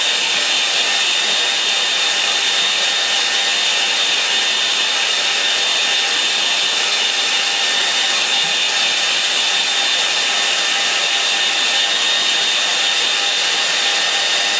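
A hair dryer blows steadily and loudly on a wet watercolour painting to stop the colours bleeding, a continuous broadband whoosh with a faint high whine that holds unchanged throughout.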